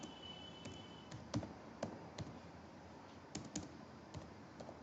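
Keys on a computer keyboard are tapped while coding, with sparse, uneven clicks, some sharper and louder, heard close over a quiet room.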